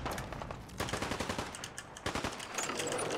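A laser musket in Fallout 4 firing in loud rapid bursts, crackling zaps stacked tightly together with short pauses between volleys, sharp and close with no talking.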